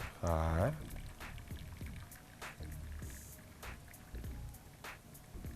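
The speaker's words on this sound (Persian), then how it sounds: "ما پامیدورها رو بریدیم در شکلی یعنی که نشون دادم و آنها رو موندیم و آبی که جوشیده است یعنی بالایش میریزیم" Boiled water poured over cut tomatoes in a home kitchen, a short splashing pour near the start followed by quieter clinks and handling noises, with a person talking over it.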